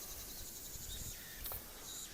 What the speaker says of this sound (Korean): 여름 매미 소리가 장난이 아닙니다